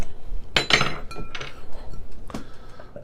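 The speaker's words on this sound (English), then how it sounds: "And let's get it open and get it into a glass and see how this one turns out." A bottle of Rhinegeist Chester beer is opened and poured into a glass, with close, bright glassy clinks and clatter, a couple of sharp knocks, and faint pouring and rustling noises.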